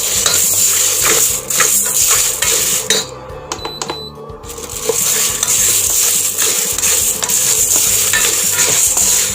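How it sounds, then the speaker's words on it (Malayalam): Green gram (cherupayar) dry-roasts in a pan while a metal spoon stirs constantly, loud close scraping and rattling of the grains with a light sizzle, briefly pausing midway. "ചെറുപയറും കൂടെ ഒന്ന് വറുത്തെടുക്കാം."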